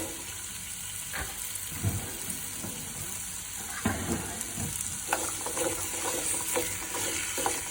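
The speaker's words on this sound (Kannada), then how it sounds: "ಒಂದು 2 ಸ್ಪೂನ್ ಎಣ್ಣೆ ಹಾಕ್ಬಿಟ್ಟು ಫ್ರೈ ಮಾಡ್ಕೊಳ್ಳಿ." Pieces of elephant foot yam fry in about two spoons of oil in a pan, giving a steady low sizzle with a few sharp stirring scrapes and clicks scattered through.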